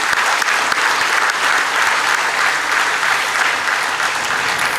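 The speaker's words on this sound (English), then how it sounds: "let's start with a big round of applause for all the students who are graduating today." An award ceremony crowd gives a big, sustained round of applause for graduating science-stream students. The thick, continuous clapping is loud and even throughout, with no voices over it.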